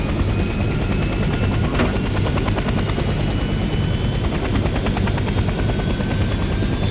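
A helicopter in the Vietnam-era shooter Hell Let Loose: Vietnam flies along, a loud, steady rotor and engine roar with a fast rhythmic chop, constant and close throughout with no talk.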